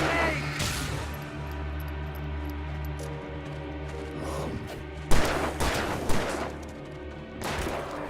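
Gunfire in the horror game Alan Wake Remastered, a continuous layered din of shots with two sharper, louder bursts of blasts near the end, amid a busy backdrop with some voice activity.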